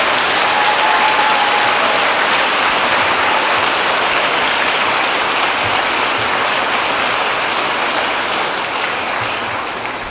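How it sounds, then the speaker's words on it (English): A large school assembly audience claps in a long, loud, sustained round of applause, dense and even throughout and easing slightly at the end, with no talking over it. "Round of applause for Mr."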